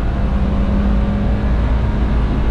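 Kia K3 engine held at a high, steady drone near its 6500 rpm redline after a downshift at highway speed, heard from inside the cabin as a constant whirring roar.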